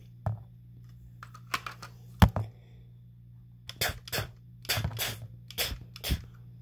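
A voice mimics gunfire for a Lego AS-VAL rifle with a series of short, sharp mouth pops, one at a time and then in a rapid cluster near the end, close and alone without other talk.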